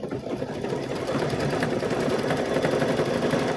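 A sewing machine stitches a patchwork quilt, giving a fast, even mechanical whir with a rapid rattling pulse, close and steady from start to finish with no talking.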